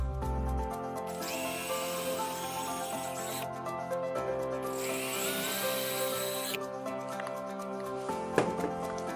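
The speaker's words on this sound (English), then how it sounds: "I'll start by drilling small pilot holes for the wall anchors." A drill bores small pilot holes in a wall for anchors while a tekmar 518 or 519 control is installed. There are two bursts of drilling, each about two seconds long, over steady background music.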